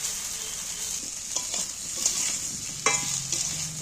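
Potatoes being stirred and fried in oil in a pan, a steady close sizzle broken by sharp scraping and clinking taps of a spatula against the pan every second or so.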